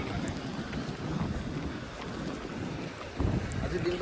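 Wind blows across a beach in a steady low rush against the microphone, with faint surf in the background and a slight gust near the end.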